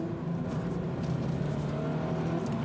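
A turbocharged Subaru BRZ on a race track revs hard near 7000 rpm, its engine a loud, sustained high-pitched drone with a strong harmonic whine that holds steady for the whole stretch, heard from close inside the car.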